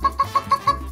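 A human voice imitates a chicken clucking: five short, evenly spaced clucks in a quick steady rhythm, close and fairly loud, with a slight low hum between them.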